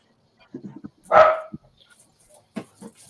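Dogs give a single sharp close bark, with a few softer yips and scuffling sounds around it in a quiet indoor room.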